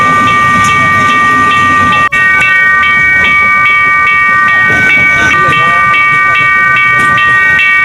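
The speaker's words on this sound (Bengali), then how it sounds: "যাওয়ার পথে ট্রেন আসার কারণে রাস্তা ব্লক করে দিয়েছে।" Train passing a blocked road crossing on the way to Cox's Bazar, a loud continuous rumble with rhythmic wheel clatter and a steady high ringing crossing bell or whistle tone throughout, heard close up.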